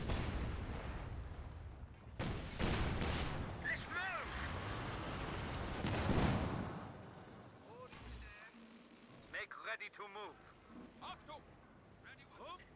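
Artillery barrages in a Company of Heroes 2 1v1 match, including Panzerwerfer rocket fire on a Cromwell tank, a run of booming blasts and rumbling explosions with a steady commentary voice over much of it.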